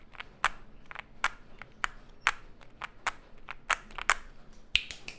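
Sharp, clacky keystrokes on a Yunzii AL66 mechanical keyboard in an uneven typing rhythm, close and clear, with no talking.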